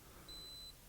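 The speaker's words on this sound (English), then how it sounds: "Have to wait for the beep, sorry Esther." A single thin, high-pitched electronic beep from a camera self-timer sounds briefly and faintly against a quiet indoor background.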